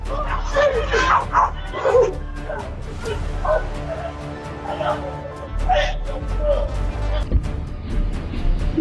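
Dogs on a home security recording bark and yip in short bursts, fairly close and loud, over a steady low rumble and background noise.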